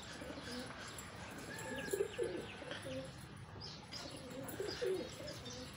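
A Kabuli pigeon coos softly nearby, low throaty murmurs in short phrases over a faint background hiss, with a few light chirps.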